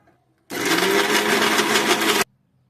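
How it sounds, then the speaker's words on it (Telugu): A kitchen mixer grinder whirs loudly as it grinds sesame and onion in one steady burst of about two seconds, with quiet before and after. "మనం మిక్సీ పట్టుకుందాం"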